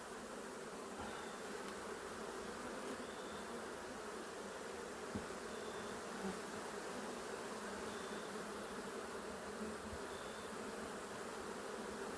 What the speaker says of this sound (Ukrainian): бджоли розлізлися, не виходить. Буду змітати.